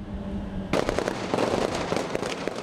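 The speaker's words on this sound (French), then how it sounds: "Des tirs éclatent de toutes parts." Gunshots breaking out on all sides, a dense rapid crackle of sharp reports that starts abruptly after a quiet moment and keeps going, loud and close.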